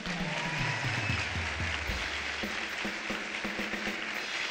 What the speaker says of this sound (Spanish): Muchas gracias, un aplauso para ellos.